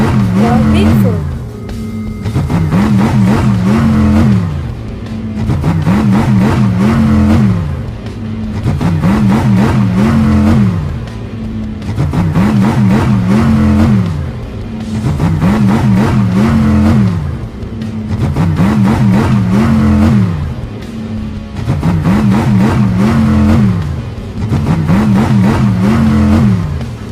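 Cartoon monster trucks, Shark and Bigfoot, race with revving engines that rise and fall in a steady repeating cycle, loud and continuous, with a voice speaking over them.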